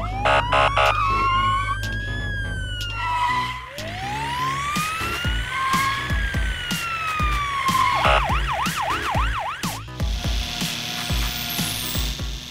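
Police car sirens wailing and yelping in a cartoon chase after a truck, loud and close, shifting through rising and falling tones and rapid warbles, layered with other electronic effects and no talking.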